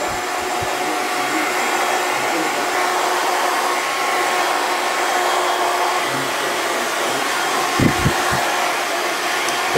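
A hair dryer fitted with a long nozzle runs continuously at close range as hair is dried, a steady loud whooshing blow with a few brief knocks near the end.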